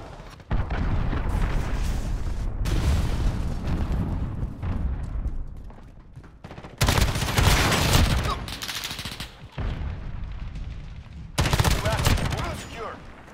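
Cruise missile launch and gunfire in the Modern Warfare beta multiplayer: rapid bursts of automatic gunfire and thundering explosions come in loud waves, close and dense, with short gaps between them.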